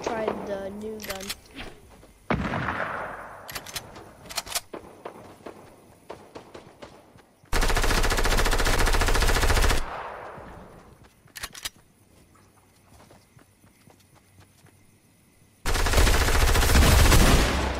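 Bursts of rapid gunfire from a new gun in the Fortnite video game, loud and close, with two long sustained sprays and scattered shorter shots and footsteps between them.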